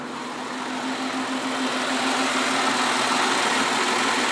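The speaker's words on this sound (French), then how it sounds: "on va aller écouter un petit peu le moteur" A 1941 Chrysler Royal engine idling steadily at close range, smooth and even with a low hum and constant mechanical whir, no smoke or ticking, no voices.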